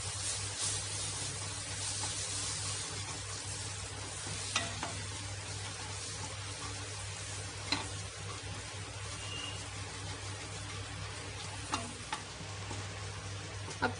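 Tomato puree sautéing in a pan for dum aloo, a low continuous sizzle with occasional faint ticks of a spoon against the pan, fairly quiet and steady with no voices.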